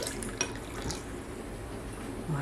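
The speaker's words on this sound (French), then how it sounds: "on va rajouter l'eau." Water is poured into crêpe batter that already holds milk and melted butter, giving a steady, close, trickling splash with a faint liquid churn underneath.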